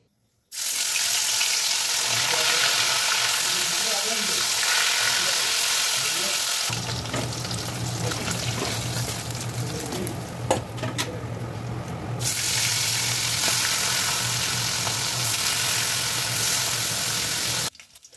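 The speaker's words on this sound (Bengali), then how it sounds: "এখন মাছটাকে ভেজে নেব।" Fish frying in hot oil gives a steady, loud sizzle throughout, shifting partway to a deeper, bubbling hiss with occasional faint clinks, and no talking.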